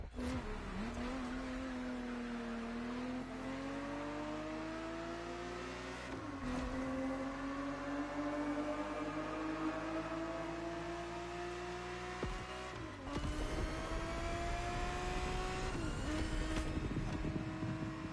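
Ferrari 365 GTB4 engine in the racing game The Crew Motorfest, a steady drone that climbs in pitch through the gears with short drops at each shift, sounding fairly distant and faint, with a voice narrating over it.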